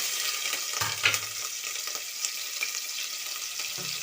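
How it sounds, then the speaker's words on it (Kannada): Onions frying in a pan for vegetable pulao, a continuous bright sizzle with occasional low clunks and stirring scrapes as they are moved about. "ನೆಕ್ಸ್ಟ್ ಈರುಳ್ಳಿ ಹಾಕ್ತೀನಿ"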